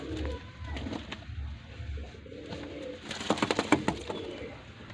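Pigeons coo softly in low, repeated pulses, followed by a burst of fluttering and scattered chirps nearby.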